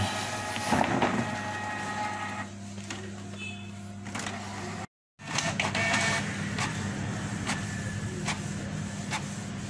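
A Canon G-series inkjet printer runs a manual color test print, giving a steady mechanical whir and hum with clicking carriage movements, a brief drop to silence midway, then continuing; no speech.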